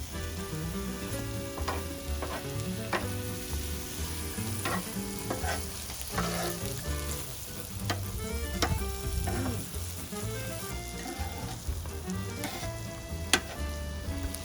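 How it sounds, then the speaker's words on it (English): Mushrooms frying in butter in a pan for an English breakfast, a steady close sizzle with scattered pops and crackles, under a dense background of music. "Now for a bit of flavour, you're going to take about a knob of butter and you're going to add it to the mushrooms"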